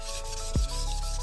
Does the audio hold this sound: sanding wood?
yes